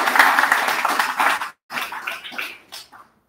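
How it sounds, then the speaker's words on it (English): An audience in a room at a medical school program announcement breaks into dense, steady clapping that cuts out abruptly and returns in shorter bursts before fading. "if we can all give a round of applause to Dr. David Linehan for putting this all to"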